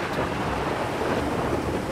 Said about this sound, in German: wie laut der Donner ist